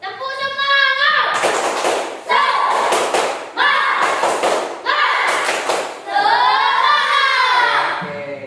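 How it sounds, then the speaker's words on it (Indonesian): A school class performs a rhythmic spirit clap, with bursts of fast, loud group clapping alternating with children chanting in unison, repeating in a regular pattern. "Tepuk semangat"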